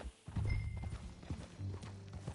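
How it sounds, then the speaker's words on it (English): Horse hooves clip-clop steadily from Red Dead Redemption 2, a close, fairly quiet rhythmic trot with some ambient game sound underneath. "Get on your horse, John. Follow me. Let's ride."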